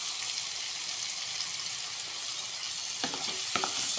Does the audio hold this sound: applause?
no